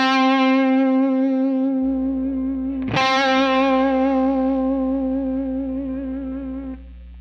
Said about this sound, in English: You hear that warbly breakup at the end when the hum is on 10, right?